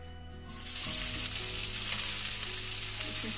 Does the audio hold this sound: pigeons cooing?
no